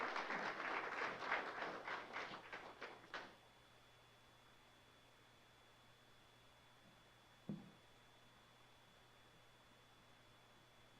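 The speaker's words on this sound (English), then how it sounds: "Please give a round of applause for our IT manager" Brief applause from a small crowd at a city council public meeting fades out after a few seconds, leaving near silence broken by a single soft knock.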